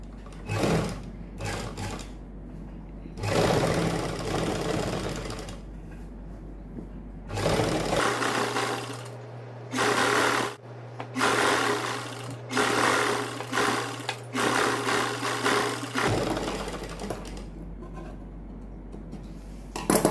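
Sewing machine stitching a ladies suit with pleats, working in repeated bursts of fast, close chattering broken by short pauses, with one long continuous run in the middle.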